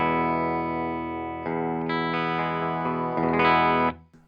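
Distorted electric guitar from an Epiphone Zakk Wylde Les Paul Custom Bullseye played through a Fender Hot Rod Deluxe amp: loud sustained chords with a brighter, harder-driven stretch near the end, then a quick cutoff.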